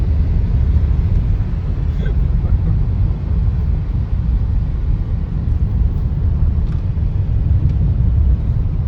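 A car drives along a rainy road between Arni and Yavatmal, a steady loud rumble of engine and tyres filling the whole stretch, with faint voices underneath.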